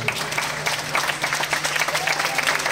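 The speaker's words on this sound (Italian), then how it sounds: "me lo fate un applauso per Piero Angela" Audience applause for Piero Angela at a San Marino comics event, a steady dense clapping from a crowd filling the whole stretch at even strength, with a faint low hum beneath.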